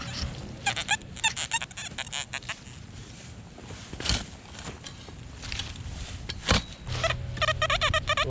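An XP Deus metal detector sweeps over surface iron in a field, giving a rapid series of choppy, warbling beeps and squeaks between scrapes and rustles, close and moderately loud.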